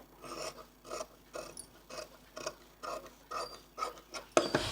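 Blouse fabric is cut for thread piping in a quick series of about nine crisp, evenly spaced crunchy snips, close and alone, ending in a sharper clack.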